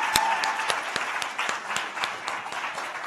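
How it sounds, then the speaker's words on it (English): Museum audience applause at an education event, a modest scattering of distinct claps from a smallish crowd, fairly soft and slightly distant, continuing steadily. "Can we please have another round of applause?"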